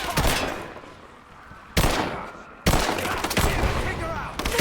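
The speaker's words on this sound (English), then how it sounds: "I'm taking fire!" Rise of the Tomb Raider video game firefight, with sharp gunshot bursts and rapid automatic fire; loud clusters of shots separated by brief pauses, close and punchy, with a tail of fainter rattling between volleys.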